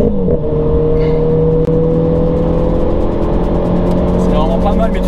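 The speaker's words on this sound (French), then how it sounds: "là on va vous refaire un petit launch control" A Renault Clio 4 RS with an RS16 bodykit accelerates hard from a launch control start, its engine a loud, steady rising drone heard from inside the car, with a brief dip around a gear change.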